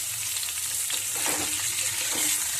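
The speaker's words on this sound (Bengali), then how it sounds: "বেগুনটা ভাজা হতে থাকুক" Brinjal pieces fry in hot oil for a tangra fish curry, giving a continuous close sizzle with gentle crackles and occasional stirring clatter, no voices.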